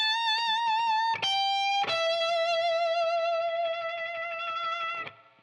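Distorted electric guitar plays a sustained solo lick: three held, vibrato-laden notes that bend and slide, the last ringing out for several seconds before cutting off.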